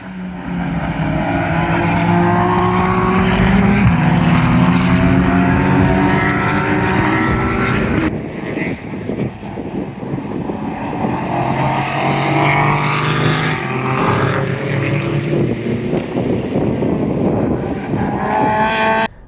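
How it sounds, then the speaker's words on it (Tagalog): Race cars practicing on a racing circuit roar past with loud exhausts, steady close engine wails rising and falling in pitch as they pass, alone without talk. "parang may practice na mga racing drivers nangyayari dito ngayon"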